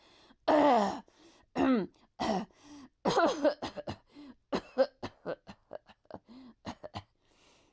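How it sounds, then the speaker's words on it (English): Repeated harsh coughing fits, a series of rough bursts and hacking sounds in irregular rhythm, growing weaker and sparser toward the end. "How long have you had that cough?"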